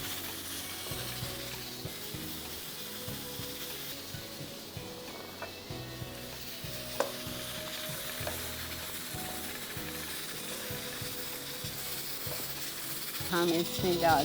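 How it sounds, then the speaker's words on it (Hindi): Mutton keema stirred in a pan with roasted cumin makes a continuous soft sizzle with scraping spoon strokes, close and moderately quiet throughout. "ठीक है, इसको आप अच्छी तरह से मिक्स करेंगे।"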